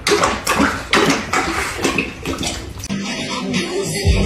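Tap water running into a basin while a woman brushes her teeth, a steady splashing rush close by with soft scraping and clinks, changing tone partway through.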